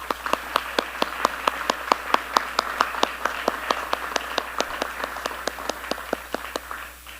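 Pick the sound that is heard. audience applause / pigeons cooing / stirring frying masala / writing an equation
audience applause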